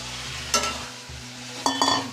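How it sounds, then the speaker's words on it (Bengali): Potato, peas and coconut stir-fried with cooked-down spices for a Bengali peas curry, a loud close sizzle punctuated by two bursts of spatula scraping and tossing in the pan. "এরপর কষবো ভালো করে"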